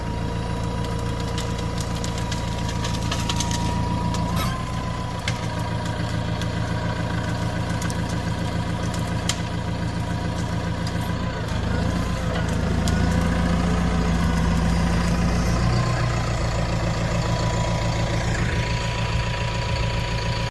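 A tractor engine idles steadily close by, a low, continuous rumble with a faint knock that runs unbroken throughout.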